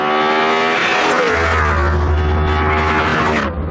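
Aston Martin DB9 engine revving hard with the exhaust valve flicked open, a loud, close, rising mechanical roar that swells and holds before dropping away at the end.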